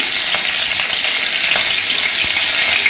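Green chillies and onions fry in a pan for fried rice made from leftover rice, giving a loud, steady, close sizzle with faint crackles and no voices.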